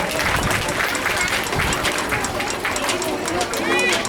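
An audience at an event at Rabindra Sadan applauds a guest of honour, a dense, sustained wash of many hands clapping close by, with a voice speaking over it.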